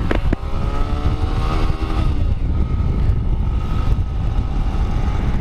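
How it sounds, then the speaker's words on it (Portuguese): A 160 cc motorcycle with a stock head accelerates hard along a straight road, its engine note climbing steadily through the gears with heavy wind and road rumble, loud and continuous throughout. "Então a gente vai acelerar a pista ali, vamos ver o rendimento da moto"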